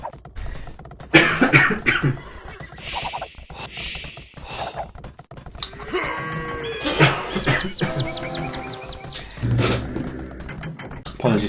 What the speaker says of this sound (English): I hope the coughing didn't seem too loud on stream.